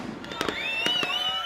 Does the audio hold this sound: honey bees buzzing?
no